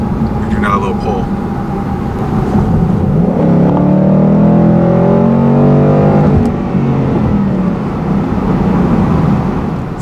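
A 2018 Ford Mustang GT automatic accelerates hard, its engine note climbing in steady rising sweeps and dropping briefly between shifts, loud and close from inside the car.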